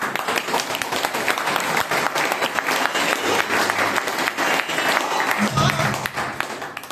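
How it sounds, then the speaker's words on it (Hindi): An audience claps, a loud, dense burst of applause that carries on steadily throughout at a business plan seminar, with no clear speech over it. "ताली बजा लो छोटी।"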